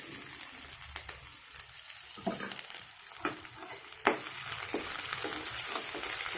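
Ginger and green chilies frying in a pan for an ash gourd and tomato curry, a steady close sizzle with stirring scrapes and small pops throughout.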